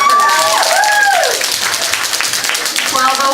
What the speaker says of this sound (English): She deserves another hand clap for that.